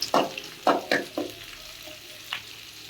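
Onions with ginger-garlic paste and curry leaves fry in a pan for a home-style mutton kuzhambu, giving a few separate sizzling bursts and stirring scrapes with short pauses between them.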